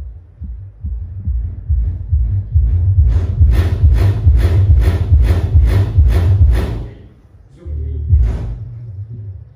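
A JBL SRX 828SP dual 18-inch subwoofer plays loud, deep throbbing bass pulses in a steady thumping pattern, with a short dip before the bass resumes, heavy and close.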